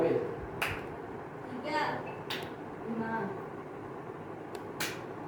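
A few sharp hand claps ring out at uneven intervals, clapped on even numbers during a classroom counting exercise, spaced between voices calling out in a room.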